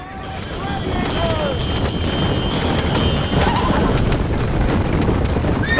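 Horses gallop hard in a race in Red Dead Redemption, a dense thunder of hooves with whinnies and rumbling, loud and continuous, while a voice talks over the action.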